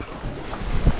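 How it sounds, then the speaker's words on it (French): A gentle wind of about 8 to 9 knots buffets the microphone aboard a sailboat under sail with the engine off in the Balearic Islands, with rushing air and faint water noise and a brief thump near the end. "un petit vent. Pas très fort."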